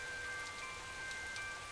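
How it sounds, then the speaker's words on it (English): Rain falls steadily in a back alley, heard from under a building's eaves as a soft, even hiss with faint scattered drips, quiet and continuous with no voices. "sitting under the eaves of a building and listening to the rain fall"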